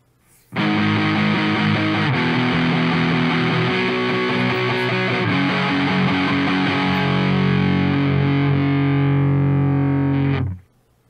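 Overdriven electric guitar with a thick, gritty distorted tone, chords ringing continuously for about ten seconds, loud and close, then cut off.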